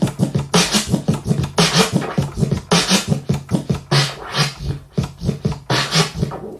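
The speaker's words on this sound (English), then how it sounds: "if you do a slow chirp flare, it sounds like this" Slow chirp flare scratches on a turntable, a loud rhythmic run of repeated stuttering record cuts that fall into a drum-beat-like pattern, heard alone without talk.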